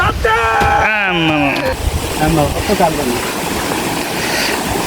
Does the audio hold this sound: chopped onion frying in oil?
no